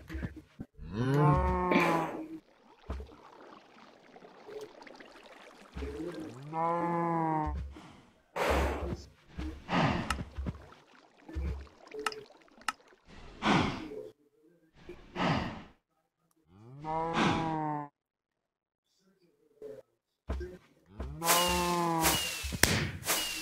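Minecraft cows moo repeatedly, with long drawn-out lowing calls spaced every few seconds. They are loud and close, with short breathy sighs and rustling between them.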